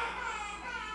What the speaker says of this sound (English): if you can hear my child crying in the background